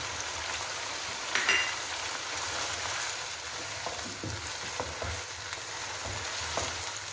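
Steady crackling sizzle of chicken with salt and garlic ginger paste frying in oil for Afghani chicken karahi, with a few soft stirring clinks; no talking.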